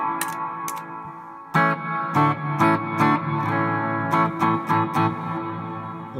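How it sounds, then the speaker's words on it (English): Electric guitar chords struck in short stabs through a Line 6 HX Effects reverb, each ringing out with a washy reverb tail that lingers between strums. "obviously you hear the reverb"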